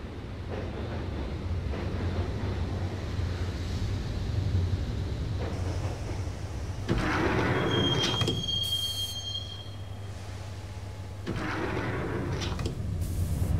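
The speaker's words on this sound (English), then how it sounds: "the train doors had already shut behind me, and I was in for the ride" Subway train ride in the Max Payne video game: a steady, loud rolling rumble of the carriage, with a sharp metallic wheel squeal rising near the middle and dropping back to the continuous drone. No one speaks.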